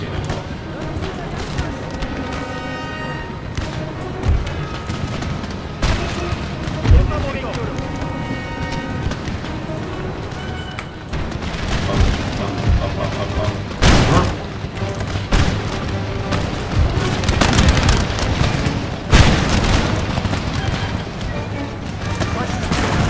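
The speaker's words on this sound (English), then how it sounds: "one of the most devastating cannon volleys I've ever seen in my life in these games" In an Empire: Total War battle, a cannon volley sounds as a series of heavy booms, each standing out as a loud broadband blast through the second half, under an ongoing din of battle and music.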